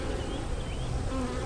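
Honey bees swarm around an opened hive during a March inspection of nucs and splits, a dense, continuous buzzing drone that fills the whole stretch without any voices.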